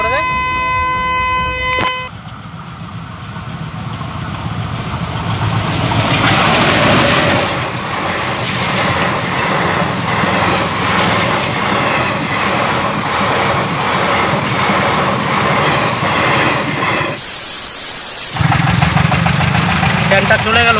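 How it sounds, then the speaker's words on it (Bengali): A train approaches and rolls past loudly and close by, a long rumbling roar with rhythmic clatter, opened by a bright horn blast and broken by a sudden burst of noise near the end. "এই যে এবার ট্রেনটা আসতেছে"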